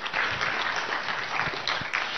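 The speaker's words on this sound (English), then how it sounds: "Clap for him." Audience applause at a Machakos gathering for a speaker, a dense, steady wash of many hands clapping close and loud throughout.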